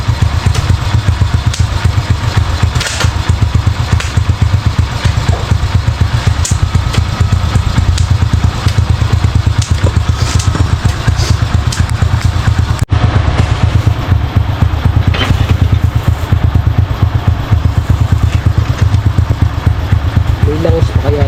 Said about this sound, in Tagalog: May langis pa kaya yung motor na yan.